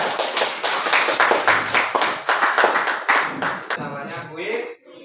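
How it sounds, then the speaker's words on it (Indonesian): A school classroom claps for a student group in rhythmic, unison bursts, roughly a dozen beats close together, then the clapping thins out and a voice speaks briefly at the end. "tepuk tangan untuk kelompok kita."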